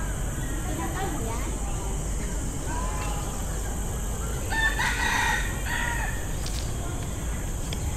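A rooster crows in the distance amid steady outdoor background noise, with a few other bird calls scattered around it.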